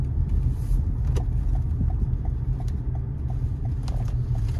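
A car rolls steadily through a hillside residential neighborhood in Prescott, Arizona, its engine and road noise a continuous, close, even drone with light ticking over it.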